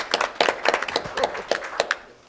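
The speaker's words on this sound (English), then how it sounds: "Let's give a round of applause." Audience applause in a conference session on 4K/UHD streaming, heard as a short burst of near, crisp claps with uneven rhythm that fades out over about two seconds.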